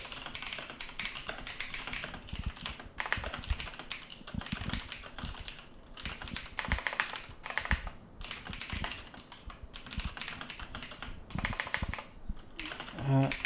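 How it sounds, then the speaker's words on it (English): Steady typing on a computer keyboard during a DAL esports match broadcast, rapid irregular key clatter running throughout at moderate level with no talk. "I'm going to explain what I'm typing about once I'm done typing."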